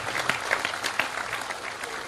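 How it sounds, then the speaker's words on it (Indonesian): Crowd applause at a Cak Nun gathering, a dense burst of many hands clapping together, with a few sharper claps standing out from the steady wash. "Sekarang tepuk tangan untuk Anda semua"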